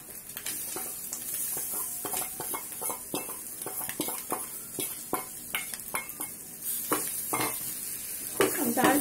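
Moong dal roasts over low heat in a pan with grated ginger and chopped green chilli, giving a soft continuous sizzle under repeated spatula scrapes and metallic clinks, close and steady.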